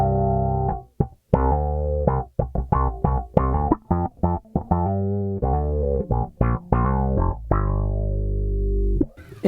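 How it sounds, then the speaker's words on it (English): A bass guitar played through an envelope filter effect pedal on a pedalboard gives a quacky, sweeping tone: loud, sustained notes and short plucked phrases fill the span with brief gaps and no talk. "this is an envelope filter."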